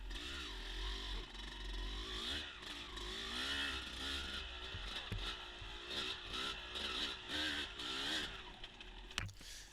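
A dirt motorcycle rides along a wooded trail, its engine loud and close, revving and easing continuously as the rider shifts through the section, with occasional clatter from the terrain.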